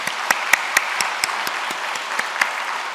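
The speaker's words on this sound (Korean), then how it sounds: "박수 한번 쳐주세요" A church congregation applauds during a Sunday worship service in a reverberant hall, a loud steady mass of clapping with a few sharper individual claps standing out above it.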